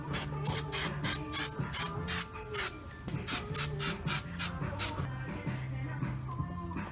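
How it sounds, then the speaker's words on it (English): Quick repeated bursts of spray adhesive from an aerosol can, a dozen or so short hissing puffs in rhythmic runs, with a low tonal hum underneath. "just spray glue"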